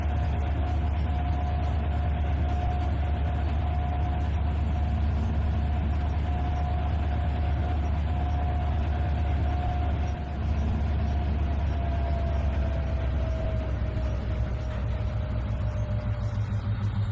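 A diesel locomotive engine drones steadily in the Trainz 2019 railroad simulator while hauling a freight train, a continuous mid-pitched rumble with a faint tonal whine and no talking.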